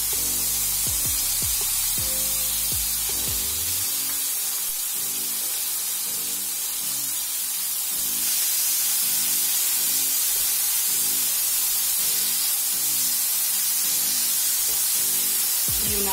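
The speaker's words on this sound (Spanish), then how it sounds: "Una vez salteada, añadimos los jugos de la cocción del pollo" Chicken cooking juices poured into a hot pan of sautéed ingredients for a coconut curry, giving a loud, steady hiss and sizzle that swells and holds for the whole stretch, with a few clinks at the start.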